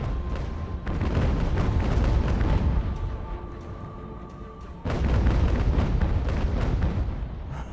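Repeated heavy booms of naval cannon fire in a video game sea battle, dense rumbling blasts rolling continuously with a brief lull midway before another loud barrage.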